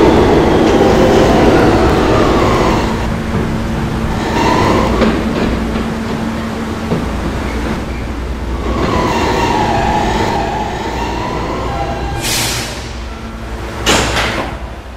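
An R160B subway train in the Roblox PTA Subway game rumbles and squeals along the rails, slowing with rising and falling wheel whines, followed near the end by sharp door or brake hisses.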